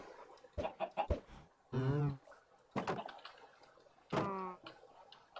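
Blocky chickens from the Minecraft modpack Sky Factory 4 cluck in short clustered bursts, broken by two longer drawn-out squawks, fairly close and clear with no talking.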